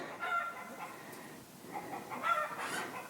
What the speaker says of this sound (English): the chickens are annoying